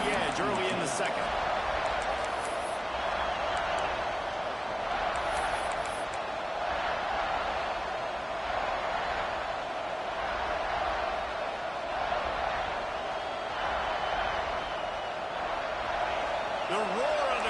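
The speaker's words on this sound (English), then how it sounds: "The roar of the crowd trying to fuel this defense to keep them pinned in their own end" Football stadium crowd at a Michigan game keeps up a steady, loud roar throughout, swelling in waves beneath a play-by-play announcer talking over it.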